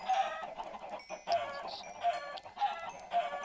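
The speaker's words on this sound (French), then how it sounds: "Déjà, je tue tous les poulets." Chickens in the Minecraft video game cluck repeatedly in short rhythmic bursts, several close, clear calls over about three seconds with nothing else heard.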